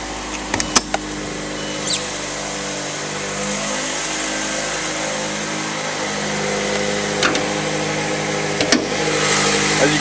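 A 2013 Mazda CX-5 Grand Touring 2.0-liter engine cranks with a few sharp clicks, then settles into a steady, moderately loud idle hum. No one speaks.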